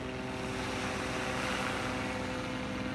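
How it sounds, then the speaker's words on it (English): A helicopter passes overhead above a beach boardwalk in North Naples, Florida, its rotor drone steady and fairly loud throughout, with a broad engine hum and no talking. "I hear a helicopter flying overhead."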